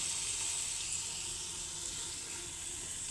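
Carrots and long beans frying in hot oil for a spicy khichuri, a steady soft hiss of sizzling that continues without a break, fairly quiet and close.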